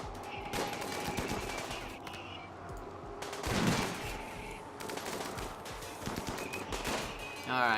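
Gunfire in the video game Rimworld, a dense stream of shots and impacts through a busy combat scene, with louder bursts near the middle and end, while people talk over it.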